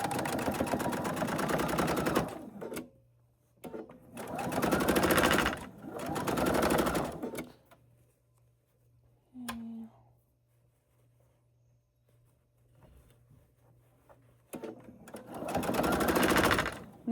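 A sewing machine top stitching through fabric in several sustained whirring runs, each a few seconds long, separated by quiet pauses, with one brief squeak in between.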